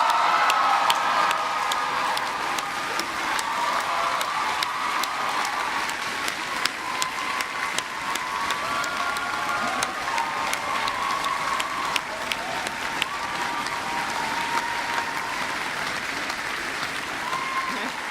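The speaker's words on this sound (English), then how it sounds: "now I wanted to ask for applause, but I think you've done it already" Graduation audience in a large hall giving loud, sustained applause with scattered cheers, a dense wash of clapping that holds steady for its whole length.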